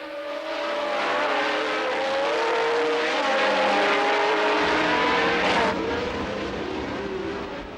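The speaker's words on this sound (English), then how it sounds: "And as the cars catapulted towards the Tarzan corner, Andretti and Peterson did nothing to change" 1978 Formula One race cars accelerate from the start at Zandvoort toward the Tarzan corner, a loud, dense roar of many engines with rising, overlapping pitches that swell and hold.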